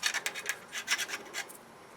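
Leftover bits are scraped out of a drilled hole with quick repeated scratching strokes, about a dozen short rasps in an uneven rhythm, close and fairly quiet, fading out at the end.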